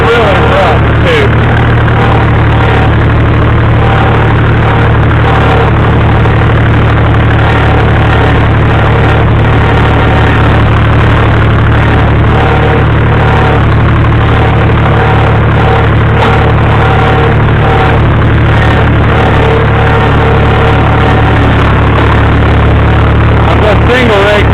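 A tractor engine runs steadily throughout while raking hay on a rough field, a continuous low, loud rumble with an idling-like drone and no clear breaks.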